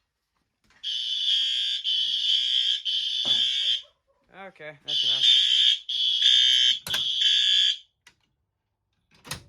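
A fire alarm system test in a shed: loud, piercing electronic alarm tones sound in long repeated bursts nearby, broken by a short pause with a brief spoken comment.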